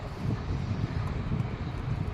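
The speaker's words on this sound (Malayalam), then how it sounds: "നല്ല ഒരു തണുത്ത കാറ്റും ഒക്കെ ഉണ്ട്" Cold evening wind in Delhi blows in a steady, low buffeting rush against the microphone, continuous and fairly close, with no voices.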